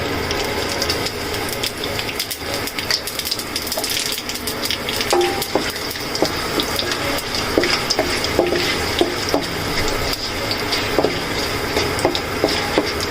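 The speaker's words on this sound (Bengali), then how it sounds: "জিরা ফোড়ন দিয়ে দিচ্ছি" Cumin seeds crackle and sizzle in hot oil in a wok with dried chillies and bay leaves, a steady dense frying hiss with scattered scraping stirs throughout, close and loud with no talking.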